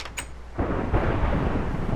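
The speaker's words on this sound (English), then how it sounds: "Oh my God, thunder." Thunder in the Minecraft video game, a sudden deep rumbling roll that breaks in after a short, faint opening and keeps booming loudly to the end, with no talk over it.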